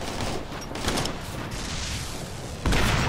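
Dense rattling gunfire from a military video game, a steady barrage of overlapping rifle and machine-gun shots with a louder burst near the end.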